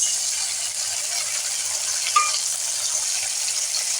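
Green chilli, ginger and cumin paste frying in oil for aloo paratha filling, a steady bright hiss throughout with a brief small splutter midway, no voices.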